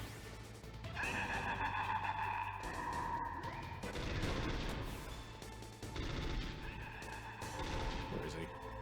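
FAMAS rifle fire in Metal Gear Solid, bursts of loud, dense gunshots with crashing impacts that come in several waves, overlapped by game music and effects.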